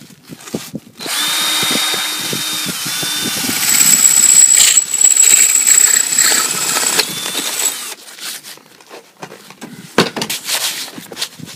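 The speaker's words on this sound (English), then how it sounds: "Now we're just going to drill a hole in the top" A power drill whines steadily for several seconds, rising and grinding as it bores a hole in the top of an ice globe, then stops, followed by scattered handling clatter.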